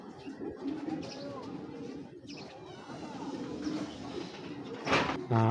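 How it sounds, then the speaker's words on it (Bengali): A male Putul Kaki Giribaz racing pigeon coos softly close by, low throaty calls repeating over faint background noise, with a louder bout near the end. "ফেদারটা দেখছেন মার্শাল্লাহ অনেক সুন্দর একটা নর পুতুল কাকি নর"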